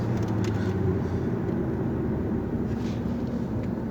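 A car engine idles with a low, rough, uneven rumble, its steady drone marked by faint stumbles and irregular pulsing.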